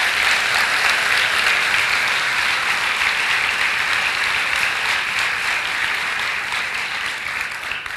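A church congregation claps together in loud, dense, continuous applause that holds steady for several seconds before easing slightly at the end, with no voices standing out.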